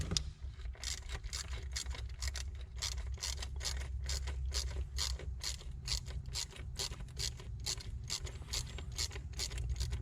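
A 7mm socket on a ratchet with a short extension loosening a bolt on the intake manifold of a 2013-2018 Ford Edge 2.0L EcoBoost; rapid, evenly spaced ratchet clicks run throughout, close but fairly quiet, with no voices.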